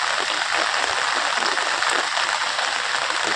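Rain falls steadily on a quiet, deserted road, making a loud, continuous hiss with no break and no talk over it.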